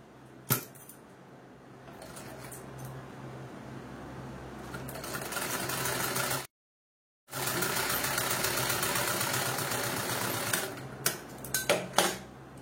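Sewing machine running steadily as it stitches two cloth pieces together for semi-patti pants, a continuous mechanical whir with a brief pause in the middle and a few sharp clicks near the end, no talking.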